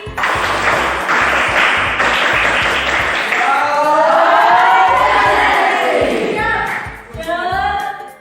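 A classroom of students performs the tepuk konsentrasi rhythmic clapping chant, loud patterned claps with shouted group voices, then a rising collective cheer near the end.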